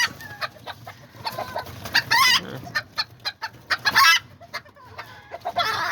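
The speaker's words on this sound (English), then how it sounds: "I got the one rooster and the one little chicken together" Small white Azteca chickens cluck in scattered bursts while a rooster crows loudly twice, near and clear in a backyard cage, with no voices.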